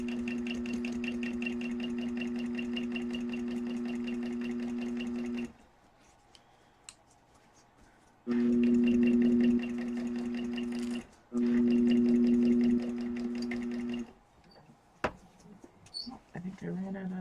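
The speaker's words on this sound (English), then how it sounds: "we're just going to top stitch along the top" Close sewing machine top stitching along the top edge of a fabric candy bag, whirring in three steady runs separated by short pauses with light clicks and fabric handling.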